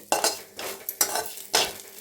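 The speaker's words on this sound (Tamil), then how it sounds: "இந்த அளவுக்கு வதக்கி எடுத்துக்கணும்" Pirandai, or adamant creeper, being sautéed and stirred in a pan, with four distinct bursts of sizzling and scraping spoon strokes at an even pace, close and fairly quiet.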